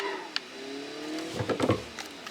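Simulated car engine from a sim racing game played with a Fanatec shifter, revving and pulling away as the clutch is dumped in first gear, rising harmonic whine followed by louder bursts near the end.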